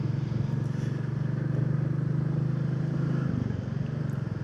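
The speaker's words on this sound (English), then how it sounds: "But the Royal Enfield is running magnificently." A Royal Enfield motorcycle engine runs steadily at about 60 mph, a low, throbbing, evenly pulsing thump heard close from the rider's position over road and wind rumble, continuous and unbroken throughout.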